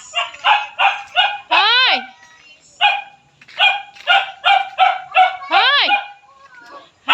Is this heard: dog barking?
yes